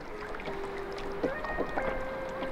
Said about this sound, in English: We're just like rowing our boat